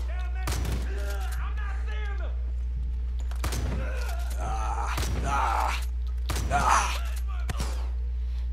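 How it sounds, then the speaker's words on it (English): Gunfire from Far Cry 5 crackles in several short bursts spread through the clip, mixed with gasps and speech-like vocal sounds over a steady low hum, moderately loud. "Excuse me, who's shooting me?"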